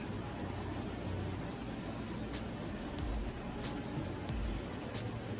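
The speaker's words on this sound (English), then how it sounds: "It's raining again." Steady rain falls outside a house, a continuous hiss of drops on surfaces with a low rumble underneath, holding at a constant even level throughout.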